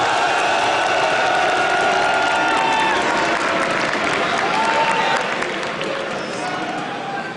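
An esports arena crowd at a EU LCS League of Legends match applauds and cheers loudly, a dense roar of clapping and whoops that fades slightly toward the end, with a presenter's voice over it.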